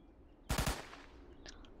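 Gunfire in the Roblox war game: a short burst of three or four close, loud shots, followed by a faint decaying tail and a couple of small distant pops.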